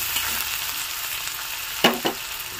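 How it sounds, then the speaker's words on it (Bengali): Chopped garlic and ginger sizzle steadily in a frying pan while being stirred, with two sharper scrapes of the spatula against the pan near the end. "এগুলো একটু নেড়ে নেব।"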